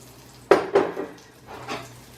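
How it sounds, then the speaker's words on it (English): Pieces of pork dropped into a hot pan of avocado oil, a sharp clatter and splashy sizzle on contact, then a second bump and a softer stir later, close and fairly loud. "I'm going to take my pieces of pork, and I'm going to put them in the same pan"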